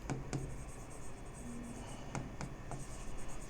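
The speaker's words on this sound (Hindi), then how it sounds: "अब यहां पर मैं एक चीज लिखता हूं" Marker or chalk writing on a board during a physics lecture, heard as a few sharp taps and short scratchy strokes spread across a steady room hum, with no talking.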